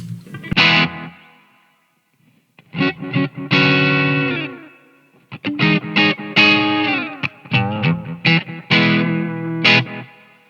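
An electric guitar played through effects pedals rings out in bursts of distorted, chorused chords and notes, each tail washing out in reverb, with short silent gaps between phrases and no voices.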